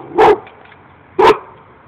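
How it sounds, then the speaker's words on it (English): Two sharp dog barks about a second apart, close and loud, with quiet background between them. "He just like to bark a lot."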